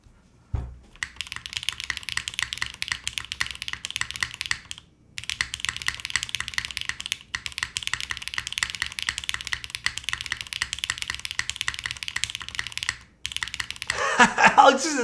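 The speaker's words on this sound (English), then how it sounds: "Did someone say they want to hear a Nixie spacebar? I'll show you what that sounds like." Rapid typing on a CLS SE mechanical keyboard fitted with a Nixie keycap spacebar, a dense close clatter of keystrokes with brief pauses, and a louder burst of clacks near the end.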